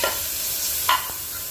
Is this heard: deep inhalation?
no